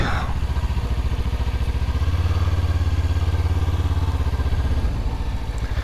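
Loud, close motorcycle engine throbbing at a steady low pulse while riding slowly around a large mall parking lot, with rattling mechanical clatter over the rumble.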